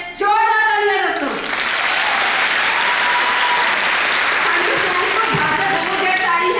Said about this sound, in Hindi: एक बार दिल से जोरदार तालियां दोस्तों।